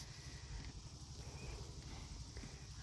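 A new horse on a New Zealand horse farm eats its dinner close by, with steady chewing and shuffling hoof thuds on a quiet background.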